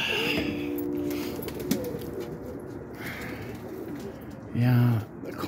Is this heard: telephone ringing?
no